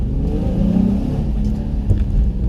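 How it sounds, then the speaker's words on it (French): Nissan 350Z sports car with a 280-horsepower engine under way on a road drive, a close, loud, smooth engine note that swells briefly as it accelerates, with no talk. "c'est un moteur qui chante extrêmement bien"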